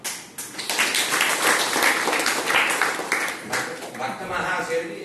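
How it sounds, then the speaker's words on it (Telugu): An audience claps for devotees at a devotional gathering with a devotee group from Nellore: sustained, fairly loud applause mixed with voices. "భక్త మహాశయుడికి చప్పట్లు"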